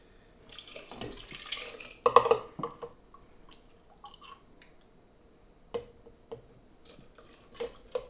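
Apple cider poured into a container for caramel apple sangria, heard as soft intermittent splashes and drips with a few brief louder bursts, fairly close and with no talking.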